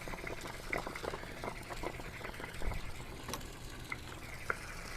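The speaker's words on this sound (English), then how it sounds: "I'm going to lift up my pressure relief valve handle, and it'll really allow a good flow of water to come out" Water gushes out of an RV water heater through its opened pressure relief valve, a bubbling, gurgling splatter with irregular pops and drips, fairly quiet and steady.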